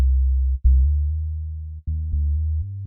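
A synth in Logic Pro plays sustained low tones with only a tremolo effect applied, steady pulsing notes that change pitch a few times, dull and bass-heavy with the filter cutoff kept closed, alone without any voice.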